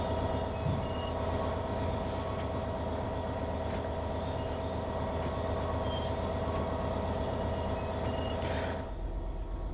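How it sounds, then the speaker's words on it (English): Train brakes screeching in the Train Sim World 4 railway simulator, a steady high-pitched squeal held over continuous rolling rumble and wheel noise, loud and unbroken for the whole stretch with no voices. "Okay, what's with the screeching sound there? Oh, the brakes are on."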